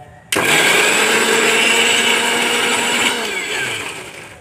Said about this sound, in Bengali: টমেটো ভাজা আর পেঁয়াজ ভাজাটা এবার মিক্সিতে পেস্ট করে নেব।